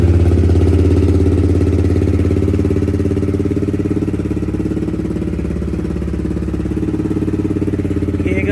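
A Yamaha MT15 motorcycle fitted with an Akrapovic exhaust idles close by with a loud, steady, low throbbing rumble that holds evenly throughout.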